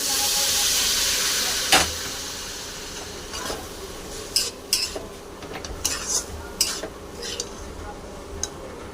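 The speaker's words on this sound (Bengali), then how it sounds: "এবার ভালো করে নাড়তে থাকবো।" A spoon stirs semolina (suji) in a pot on a gas stove: a steady soft hiss of steam, then sporadic sharp clinks and scrapes of metal against the pot, close by.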